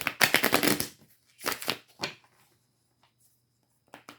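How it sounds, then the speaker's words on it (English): A deck of cards is shuffled up close in quick riffling bursts: a long flutter at the start, two shorter riffles after it, then a pause before a final brief patter. "That shuffle felt good."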